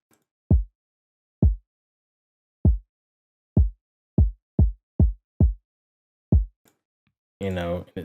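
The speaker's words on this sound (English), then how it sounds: "It's a simple little drum pattern" Kick drum hits from a drum kit in a simple, loose pattern, deep and punchy with silence between them, then a short burst of a voice at the end.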